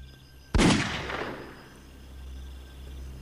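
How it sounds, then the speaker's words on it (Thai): A single sharp gunshot cracks out after a moment of quiet, its boom echoing and fading slowly into a low rumbling background. "เสียงปืนดังขึ้นเพียงนัดเดียว"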